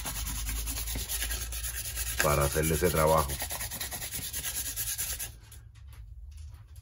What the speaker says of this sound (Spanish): Y le vamos a pasar lija 400